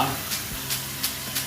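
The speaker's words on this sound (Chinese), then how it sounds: "锅中请你加油，5成油温，下锅炸，中火炸2分钟也熟了。" Seeded chili pepper chunks deep-fry in moderately hot oil over medium heat, giving a loud, steady, close sizzle with light stirring scrapes.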